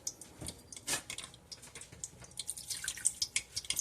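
Water poured into a one-pot pork and noodle bucatini pasta pot, about one cup added, heard as quiet irregular dripping and splashing drops alone, without talk.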